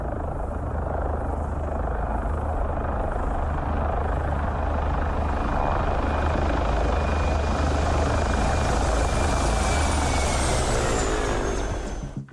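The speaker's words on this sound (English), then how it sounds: "Today we're talking about a very special helicopter, the Mi-24, known as the Hind or Satan's Chariot for some." An Mi-24 Hind helicopter flies by with a loud, dense rotor and turbine roar that holds steady and then shifts in pitch as it passes close, with no voices.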